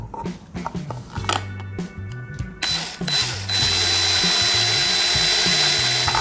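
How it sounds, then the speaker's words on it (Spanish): A power drill bores into a hardened mix of glue and cotton. A stuttering, ratcheting whir comes first in short bursts, then one long, loud, continuous high-pitched spin close by, with no speech. "Vamos a hacer la clásica prueba del taladro y la broca"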